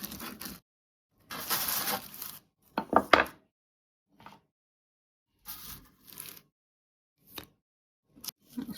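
A knife cuts a slice from a baked pear and puff pastry dessert with crisp, crackly crunches in short separate bursts, then a few light taps and scrapes against the plate amid silent gaps.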